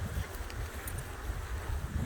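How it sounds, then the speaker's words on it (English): Wind blows steadily outdoors at a campsite beside water in Alberta, Canada, a constant rough rushing hiss with low buffeting gusts on the microphone and no other clear sounds. "A little windy today."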